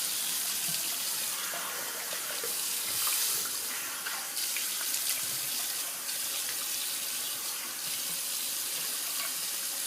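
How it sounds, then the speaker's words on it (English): Water runs steadily from a bathroom tap while a safety razor is rinsed beneath it, a continuous close splashing hiss with small irregular changes in the flow and no voices. "Alright, gonna rinse this off real quick."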